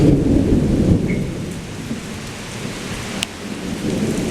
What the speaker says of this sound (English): There's nothing but rain out there.